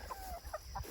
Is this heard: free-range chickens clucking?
yes